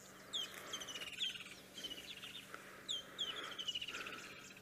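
Wild bird calls at Sabi Sands game reserve in South Africa at sunset, repeated bright chirping phrases in bursts over faint background hum, moderately distant.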